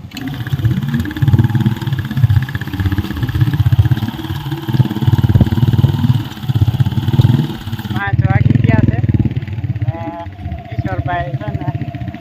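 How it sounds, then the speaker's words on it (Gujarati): A Kawasaki Boxer motorcycle engine rumbles steadily at close range in a village, with a voice speaking over it in the later seconds. "આવી ગયા છે આપણી બાઈક આટલું આ કાવાસાકી બોક્સર"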